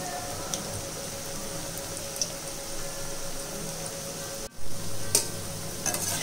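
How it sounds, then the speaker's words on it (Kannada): Onion pakoda fritters frying in hot oil, a steady dense sizzle and bubbling with a few brief stirring clinks, continuous and close with no talking. "ನೋಡಿ ಈ ಥರ ಎಣ್ಣೆಯಲ್ಲಿ ತಿರುಗ್ಕೊಡ್ಬೇಕು ಚೆನ್ನಾಗಿ ಬೇಯ್ತಾ ಇದೆ"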